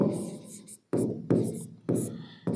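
Chalk or pen writing on a board during a class, scratchy strokes in bursts separated by short pauses, with a teacher talking throughout.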